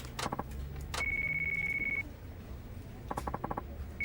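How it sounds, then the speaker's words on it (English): A cell phone rings in the Yakuza 5 video game: short electronic trill bursts at the start and end, with a steady high beeping tone between them, heard alone over low background ambience. "That your phone?"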